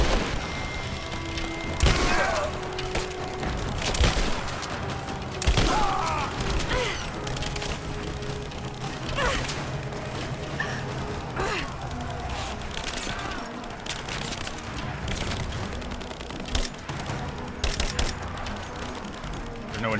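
Gunfire in Rise of the Tomb Raider: repeated sharp shots and heavy thumps scattered across a tense combat soundscape, with occasional game voices mixed underneath.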